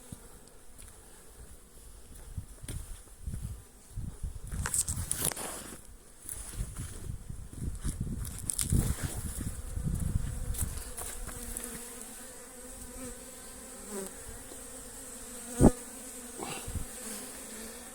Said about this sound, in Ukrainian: Гріється на сонечку бджілка